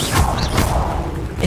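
Incendio fire spell cast in the video game Hogwarts Legacy: a loud, close, rushing whoosh of flame with creaky, crackling texture and a couple of brief bursts, lasting under two seconds.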